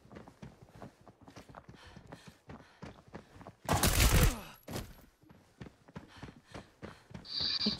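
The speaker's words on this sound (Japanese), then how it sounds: "銃声聞こえたかもしれんけど" Gunfire in the tactical shooter game Arena Breakout: a loud, dense burst of shots in the middle, set among softer repeated footsteps and clatter, with another sharp crack near the end.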